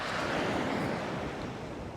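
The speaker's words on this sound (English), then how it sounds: "Down at Selsey, tide's coming in." Sea waves rolling onto Selsey beach as the tide comes in under a strong northeasterly wind, a continuous close wash of surf with wind noise on the microphone.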